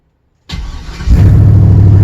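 LS-swapped car engine cranks after a short silence, catches within a second and settles into a loud, steady, rumbling idle close by, with no voices.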